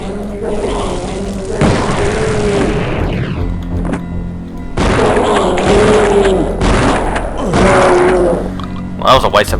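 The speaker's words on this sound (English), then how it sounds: "Well, that was a waste of a napalm shot." Explosions from a napalm shot in the DOS shooter Blood, E1M4 Dark Carnival level: loud booming blasts in two long bursts with rumbling debris, heavy low thuds and brief sharp cracks near the end.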